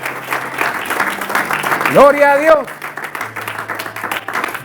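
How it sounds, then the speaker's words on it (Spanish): A church congregation claps steadily in the background while a voice calls out over it, the applause continuing loud and even beneath the speech. "Yo a usted le diera otro aplauso a Jesús."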